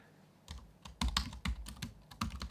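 Typing on a computer keyboard while filling in a form field, with irregular bursts of close key clicks and taps, some louder strikes, and no talking.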